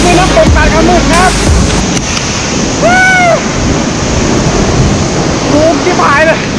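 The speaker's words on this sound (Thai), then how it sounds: "นี่คือน้ำตกตาดขมึดครับ" Tad Khamued waterfall pours with a steady, loud rushing roar of falling water that fills the whole stretch, while people's voices rise briefly over it.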